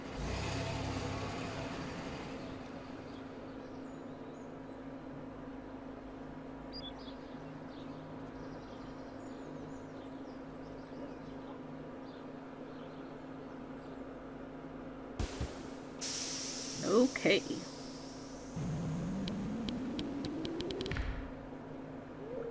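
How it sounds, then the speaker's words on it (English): A low engine hum of a bus in the video game Stardew Valley runs throughout. Near the end come a few clunks and a rising mechanical whine. One short word is spoken. "That was an interesting sound for a bus to make."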